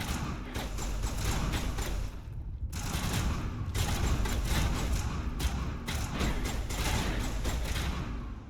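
Sustained rapid gunfire in the Mass Effect video game, a character shooting at a rock, loud and continuous with brief gaps between bursts.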